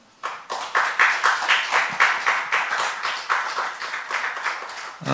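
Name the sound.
applause of encouragement for the ministers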